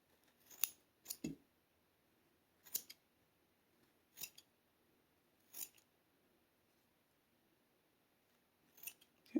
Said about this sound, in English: get your scissors and put in there and pull it